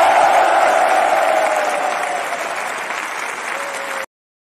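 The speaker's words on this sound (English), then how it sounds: "They want to applaud you for all this information." An audience applauds loudly, a dense burst of clapping that gradually thins and fades before cutting off abruptly.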